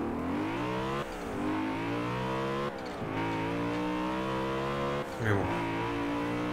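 A 1997 BMW M3 engine in Forza Horizon 4 revs hard and steadily through rising gear pulls, with brief dips at each shift, loud and close, while someone talks briefly over it.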